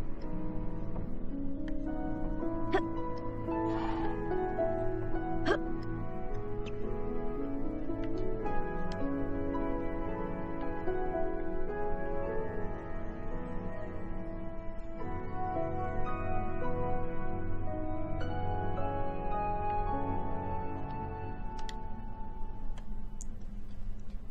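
Soundtrack music from the Harry Potter and the Philosopher's Stone video game plays steadily at moderate volume, an orchestral bed with ticking, chiming accents throughout and no talk.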